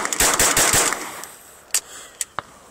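A pistol loaded with Mini-Mag rounds fires a fast string of sharp, close shots, then a pause and three more separate cracks.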